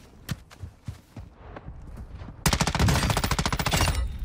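Rapid automatic gunfire from the Warzone 2 video game fills the second half as a dense, sustained burst, following a few quieter footstep-like thuds.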